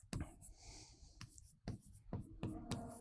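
A pen scratches across paper during a lesson. The strokes come in short quiet bursts with irregular taps and pauses, close to the microphone and with no speech over them.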